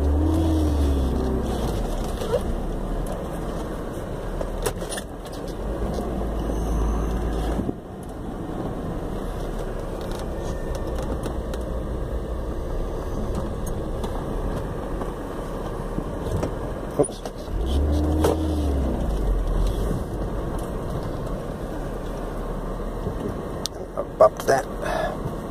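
A car fitted with individual throttle body intakes and a lightweight flywheel pulls away, its steady engine note rumbling close throughout with a couple of brief revving swells, while a voice talks over it.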